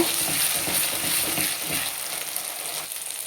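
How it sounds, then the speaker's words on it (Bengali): Ginger, garlic and tomato paste fries with onions for a Bengali-style chicken, a dense close sizzle with quick stirring scrapes early on that settles into a steady hiss, no talking. "এখন আমি মিক্সার করে রাখা আদা, রসুন আর টমেটো পেস্টটা দিয়ে দিলাম। এখন এটাকেও আমি কিছুটা ফ্রাই করে নেব।"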